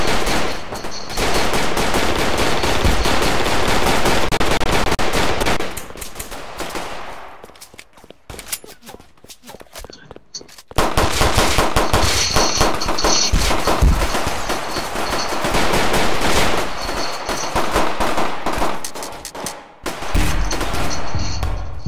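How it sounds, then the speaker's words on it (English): Rapid bursts of gunfire in Tha Bronx 2, loud and close, dense volleys with a quiet lull midway before the shooting resumes and continues in clustered bursts. "Damn, I just got shot by somebody else, bro."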